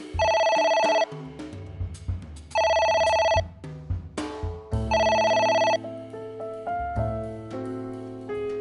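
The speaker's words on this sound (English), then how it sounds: "It won't stop ringing." A telephone rings over and over in loud, shrill bursts spaced a couple of seconds apart, mixed with a low droning musical backdrop.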